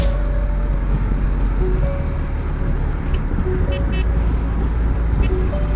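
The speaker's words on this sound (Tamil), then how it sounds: "ஆக்டிவா ஹார்ன்." A Honda Activa scooter horn beeps in several short, spaced toots, a thin steady tone over constant engine and roadside rumble during a group motorcycle ride.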